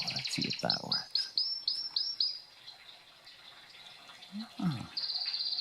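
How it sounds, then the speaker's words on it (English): Recorded canary song plays for a cat: a rapid series of bright, repeated trills and chirps up close, with brief low murmurs from a person between phrases. "he likes these little birds"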